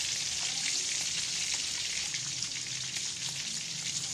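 Fish fries steadily in a pan of hot oil, a dense, even sizzle with faint crackles that holds at a constant close level throughout, with no talking.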